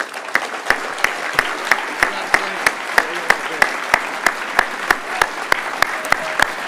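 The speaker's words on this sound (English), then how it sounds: "A big round of applause for Robert Leeming." Rhythmic, evenly spaced clapping from an audience at a Canadian Mortgage Hall of Fame induction, steady unison beats continuing throughout, close and clear over a soft crowd bed.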